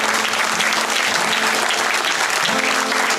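A crowd gives loud, sustained applause for a Frisian band, dense clapping with cheers at a steady level throughout, with faint music beneath.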